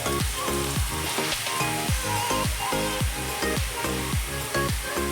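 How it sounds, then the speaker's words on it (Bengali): Grated carrots sizzle and fry loudly in ghee for carrot halwa, with a steady hiss and rhythmic scraping as a spatula stirs them in the pan at close range. "গাজরটাকে দিয়ে দেওয়ার পর খুব ভালোভাবে ভাজতে হবে যত তুমি ঘি দিয়ে গাজরটা ভাজবে"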